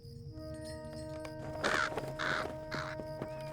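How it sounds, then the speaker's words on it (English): Crows caw three times in Lord of the Rings Online, harsh and fairly close, set against a steady bed of game ambience and faint chiming tones. "I was wondering what was the deal with all these birds around the village."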